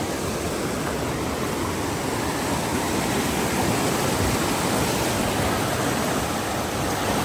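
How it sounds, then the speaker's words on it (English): A waterfall on the Appalachian Trail roars in a steady, loud broadband rush of falling water that holds unbroken from start to finish, with no voices over it. "And a pretty waterfall."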